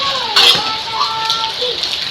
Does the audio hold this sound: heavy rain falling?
yes